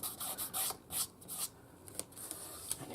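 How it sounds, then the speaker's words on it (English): A paper strip rubbed flat onto a handmade birthday card, soft brushing scrapes in a few short bursts, close and quiet, with no voices. "Just give it a rub."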